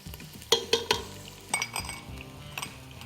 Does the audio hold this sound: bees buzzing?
no